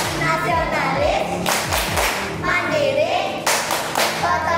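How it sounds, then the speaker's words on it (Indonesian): Elementary classroom of fifth-grade children performing the PPK clapping chant, rhythmic bursts of hand claps and thumps close by, rising and falling in repeated patterns. "Anak-anak, kita melakukan tepuk PPK dulu ya."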